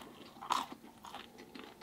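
Someone bites into crunchy frozen pizza, making one sharp crisp crunch followed by quieter chewing crunches, close up and faint, with no talking.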